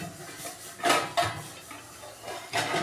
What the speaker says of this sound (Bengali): এখন ঢাকনাটা খুলে দেখি।